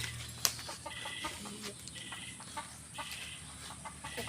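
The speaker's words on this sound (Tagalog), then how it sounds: "Ayan po yung manok ko. Taas ng puno ng mangga." A chicken perched up in a mango tree clucks softly and repeatedly at a distance, faint under outdoor background noise with a sharp tap near the start.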